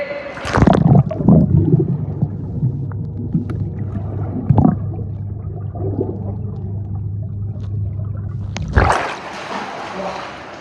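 Water gurgles and churns around people dunking underwater together, a muffled, bubbly rumble held for several seconds, framed by splashy bursts of noise as they go under and resurface.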